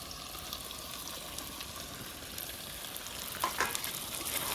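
Fresh tomatoes, just picked from a village field, fry and sizzle in a pan over an outdoor cooking fire, a soft continuous crackle with a few stirring scrapes near the end, alone with no voice.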